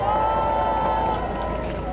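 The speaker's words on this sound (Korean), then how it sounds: "우리 형님한테도 박수 한번 보내주시기 바랍니다" Crowd at an outdoor market campaign rally in Suncheon's Araetjang market, a steady dense wash of clapping and cheering voices with a held tone running through it, fairly loud and continuous.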